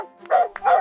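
A seal barks twice in quick succession, with two short, loud, close calls separated by a brief pause.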